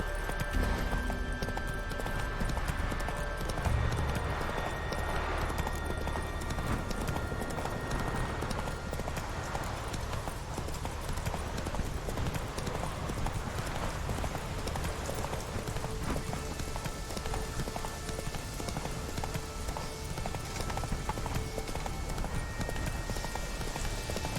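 Horse hooves clip-clop steadily in The Witcher game, the horse Roach trotting at a constant pace under a dense, continuous game soundscape with faint rain-like ambience throughout.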